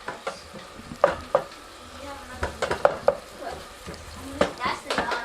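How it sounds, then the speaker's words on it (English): Meat frying with tomato in a pan, a soft sizzle under intermittent scraping and clinking as it is stirred, quiet and close, with sharp utensil knocks at irregular intervals. "we're gonna cook the meat, guys."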